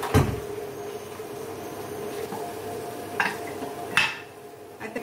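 Pressure cooker with chicken inside being closed, a sharp metallic clank at the start followed by a couple of lighter knocks and clicks near the end over quiet kitchen hum.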